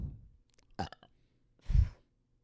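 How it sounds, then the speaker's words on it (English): A child lets out a burp, a short guttural belch followed by a second, deeper and louder burp close to the mic, with quiet pauses between. "Your burp, it smelled bad."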